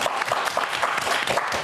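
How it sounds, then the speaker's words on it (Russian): Studio audience applauding on a Gomel New Year evening television show, a steady dense wash of clapping throughout, fairly loud and close. "Вот эти аплодисменты для вас"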